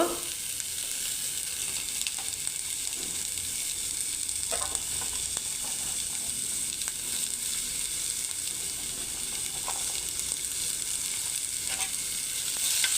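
Finely chopped carrots and beans fry in oil for vegetable upma, a steady, moderately loud sizzle with occasional crackles and spatula stirs, heard up close without speech.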